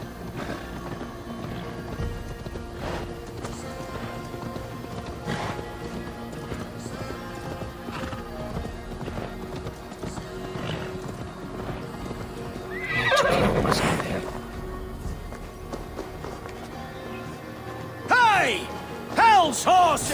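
Horses in Assassin's Creed Valhalla gallop with steady clip-clop hooves and give loud whinnies, with a big burst of neighing midway and more near the end, under game ambience and some voice.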